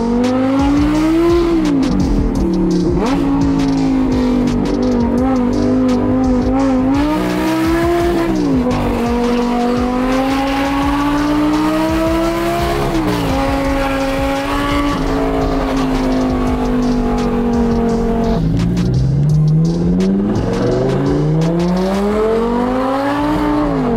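Lamborghini fitted with straight-pipe exhaust, loud and close, its engine note rising and falling through repeated revs and throttle blips with a harsh, raspy tone, running continuously with no talk.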